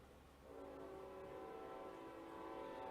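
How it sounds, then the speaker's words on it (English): A train horn sounds near a farm in the Smoky Mountains, a loud sustained blast starting about half a second in and holding steady to the end, over low rumbling background. "And there's the train telling me that it's time to quit."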